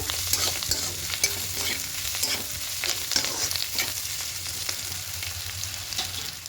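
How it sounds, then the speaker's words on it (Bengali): Potatoes and onion stalks fry in a pan with white oil and poppy seeds, giving a steady close sizzle broken by repeated scraping stir strokes, with no talking. "এবার এগুলো দিয়ে আরেকটু ভেজে নেব।"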